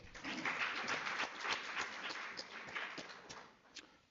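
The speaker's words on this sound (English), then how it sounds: "Another round of applause." A seminar audience claps in a moderate round of applause, scattered hand claps spread across a few seconds and thinning toward the end, heard from some distance with no talk.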